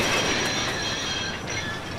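An engine shunting railway trucks and backing onto a brake van at a big station gives a steady, loud mechanical rumble with metallic clanking and faint wheel squeal, with no voices.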